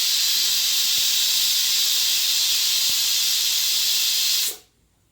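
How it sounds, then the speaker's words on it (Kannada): A pressure cooker on the stove vents steam in a loud, steady, close hiss that runs continuously and then cuts off abruptly to near silence. "ಚೆನ್ನಾಗಿ ಸ್ಟೀಮ್ ಬರ್ತಿದೆ ಇವಾಗ ವೆಯ್ಟ್ ಹಾಕಿ"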